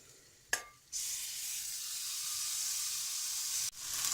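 Chicken fries in a pan for curried butternut squash soup, a loud steady sizzle that starts with a sharp clatter, hisses evenly for several seconds, then breaks briefly before resuming, with no talking.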